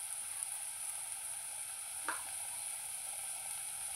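Chicken masala frying in a pan, a steady bright sizzle running the whole time with one short stir or scrape partway through, no talking.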